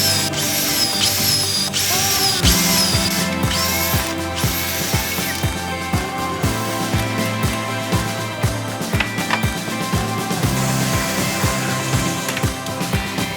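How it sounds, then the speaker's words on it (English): Busy workshop clatter with repeated short mechanical bursts and tool noise over a steady hum, the drilling of holes into an 18mm wood panel hard to pick out. "so I drill the holes at the halfway point of the 18mm panels"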